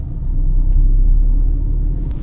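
A Tata Tiago iCNG car running in CNG mode in first gear on a road, a loud steady low engine rumble building as it pulls away, heard alone without talk.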